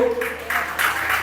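Church congregation clapping in a brief burst of applause, several pulses of clapping mixed with a voice over it.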